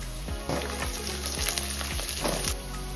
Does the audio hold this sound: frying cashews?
yes